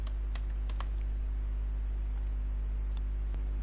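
Sharp computer mouse clicks and quick taps ring out over a loud steady low electrical hum, several scattered clicks in the first second, a cluster near the middle and one more near the end, with no one talking.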